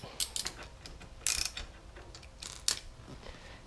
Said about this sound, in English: Now we're going to have to unbolt the one bolt for the frame for the seat back, and grab our socket.